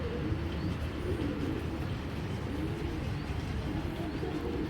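A racing pigeon, a strong long-distance tournament bird, cooing in low, continuous throaty murmurs close by, with soft rustling underneath.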